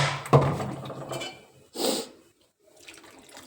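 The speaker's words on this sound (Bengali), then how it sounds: "তো বাটিটা ধুয়ে দেবো, অনেকটা ডাল লেগে আছে।" Dishes clatter in a kitchen sink as a bowl crusted with cooked dal is rinsed and scrubbed, with a sharp clunk, a brief splash and scraping, then quieter handling.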